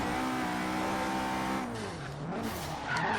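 Turbocharged Honda S2000 engine in the video game Forza Horizon 3 revving hard toward the redline with a steady, loud, high-pitched wail, then briefly dropping off before climbing again, tire noise mixed in.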